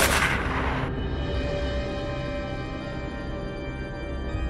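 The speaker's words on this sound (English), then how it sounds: "Gunshots rang out continuously." One sharp, loud gunshot from a wild boar hunt in Moroccan farmland opens the clip and then fades into a long, ringing decay, with no further shots and no voices.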